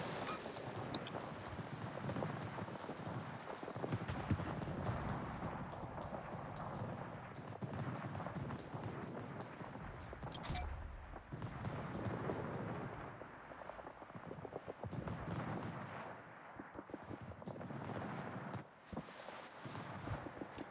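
Naval guns firing in the World of Warships game: heavy, rumbling booms and broadband blasts rolling over a steady wash of sea and engine noise, continuous and fairly loud throughout.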